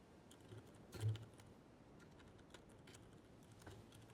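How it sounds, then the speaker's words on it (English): Quiet, scattered keystrokes tap on a computer keyboard, with irregular clicks and one slightly heavier thump early on, faint against a low room hum. "Typing."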